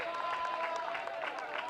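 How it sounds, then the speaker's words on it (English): Crowd at a T10 cricket finals day in Malta applauds a straight dot ball, scattered clapping and light cheering, fairly distant and soft over a brief stretch. "And he gets a big round of applause for a straight ball, a dot ball."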